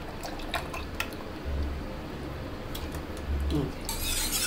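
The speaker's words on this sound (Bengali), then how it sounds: "এখন দুধটুকু পুরোটাই আমি এখানে এই দুধের মধ্যে ঢেলে দেব, দিয়ে মিশিয়ে নেব" Milk is poured into more milk in a kitchen while making yogurt, a steady soft liquid stream with faint drips and a small clink near the end, alone and close.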